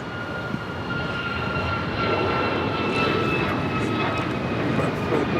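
Airplane engine roar at Los Angeles LAX airport, a steady, loud jet rumble that swells slightly as the aircraft approaches, carrying on throughout with no voices.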